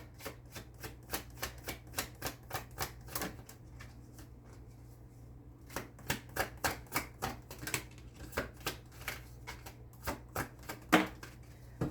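Tarot cards being shuffled and drawn: a long run of quick, crisp card snaps and flicks in uneven bursts, close and fairly quiet, with a short pause midway and no speech.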